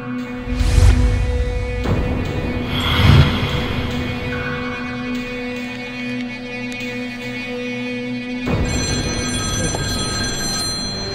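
A telephone rings indoors during a domestic argument in a Nigerian drama, with a few loud bursts early on over a steady background hum, then a quieter stretch before the noise rises again near the end.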